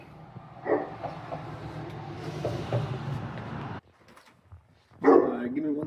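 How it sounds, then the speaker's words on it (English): Big dogs bark a couple of times near a house during an HVAC service visit, a nearby bark early on and another loud one near the end, with background noise between. "Got some big dogs."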